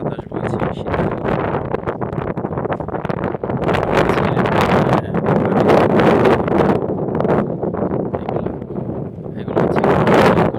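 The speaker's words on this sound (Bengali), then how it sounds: "বাতাস বইছে, শীতকাল।" Winter wind blows across open Saudi desert, heavy gusty buffeting that swells and fades against the microphone for the whole stretch, loud and close, with no voices.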